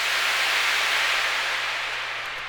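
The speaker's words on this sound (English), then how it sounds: "I just took some pink noise" Dense, steady pink noise washed through reverb in a music production, a smooth full-band hiss that holds constant and fades slightly toward the end, alone with no other sounds.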